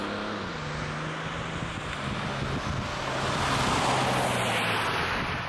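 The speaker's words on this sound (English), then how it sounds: "Let's take this X5 out for a drive." A BMW X5 G05 xDrive30d diesel SUV driving, with a steady broad road and wind rush and a low engine hum that swells slightly toward the end, no voices.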